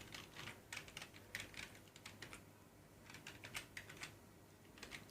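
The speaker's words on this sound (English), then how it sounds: "I'm just gonna put in the password." A password is typed on the keyboard of an HP P6000 desktop, a quiet, steady run of close key clicks in quick bursts over a faint background hum.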